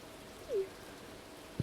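Rain falls steadily in the farming video game Stardew Valley, a soft, even hiss at low level throughout, with one brief chirp and a faint tap near the end.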